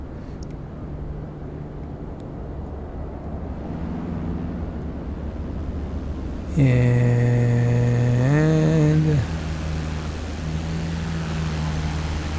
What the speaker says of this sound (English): So this is that little airplane that we saw, that we heard.